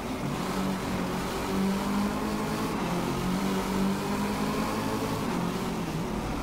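Peugeot Onyx Concept with a 3.7 32V turbo diesel engine, heard from the interior in Driveclub, holding a loud, steady droning rev with a dense, continuous engine hum and no pauses.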